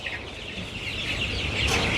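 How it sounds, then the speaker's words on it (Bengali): Farm chickens clucking softly at a distance over a steady background hiss, a few brief calls rising near the end. "একটু মুরগিটার দিকে একটু দেখেন"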